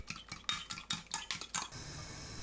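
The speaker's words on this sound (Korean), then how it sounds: "계란 3개, 고운 소금 3분의 1큰술, 미림 반큰술 넣고 계란을 풀어주세요." Eggs beaten with fine salt and mirin in a bowl: a quick run of sharp whisking clinks and taps against the bowl, about eight strokes in a steady rhythm, close and alone, then stopping into quiet room tone.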